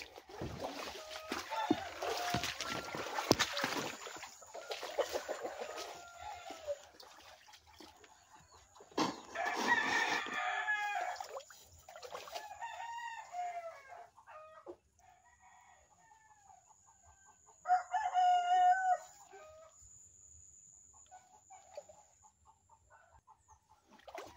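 Roosters crow repeatedly alongside clucking hens behind a house, with harmonic calls rising over a busy outdoor background; several crows stand out loud and close.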